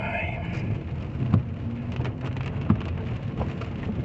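Steady rain in Divinópolis, Brazil, patters and hisses on a surface, with occasional heavier drops and a low rumble underneath.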